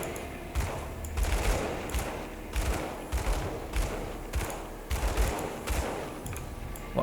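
Repeated bursts of gunfire from the action RPG Grim Dawn, played as an Inquisitor: rapid volleys of shots and thuds recur across the clip with game effects underneath, loud and fairly close, with no talking.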